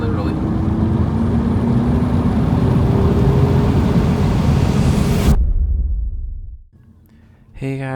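A 180HP VW Scirocco accelerates hard under full throttle with a loud, steady engine roar for several seconds, then cuts off abruptly as it shifts gear, leaving a brief lull before the engine note picks up again.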